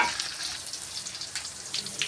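Chopped green chillies fry in a pan with onion, ginger and garlic for veg pasta, giving a steady, close sizzle with light stirring noises and no talking.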